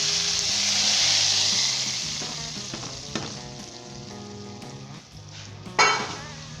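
Hot tadka tempering poured over pindi chickpeas sizzles loudly, a bright crackling hiss that surges at first, then settles into steady frying with a few clinks of a spoon or pan and a fresh burst of sizzle near the end.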